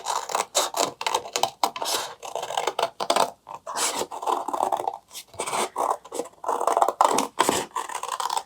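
Scissors snip steadily through paper card, a quick run of close, crisp cuts with short pauses between strokes, no talking.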